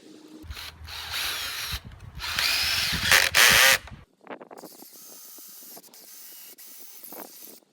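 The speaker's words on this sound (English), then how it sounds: "To tie it all together, I put a screw through both ends of each crossbar." A power drill drives long 100mm screws through the ends of timber crossbars, bursts of whirring motor and grinding that rise and cut off, followed by quieter rattling handling close by.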